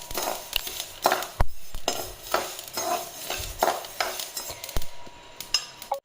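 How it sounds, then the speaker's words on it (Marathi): Coriander seeds dry-roasting in a kadhai over low gas, stirred with rhythmic scraping strokes of a spoon against the metal pan and a faint dry rustle between strokes, no talk. "आता धणे टाकल्यात कढाईमध्ये भाजायला"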